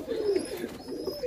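Soft, low cooing of a pigeon or dove, a few gentle rolling calls close by, with faint high chirps in the background.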